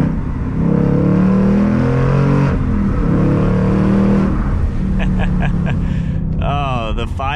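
A 2021-2022 Ford Mustang Mach 1 with a 5.0 V8 and Tremec manual revs hard in track mode, its loud engine note climbing through the gears with a shift, a brief lull and rising pitch sweeps near the end.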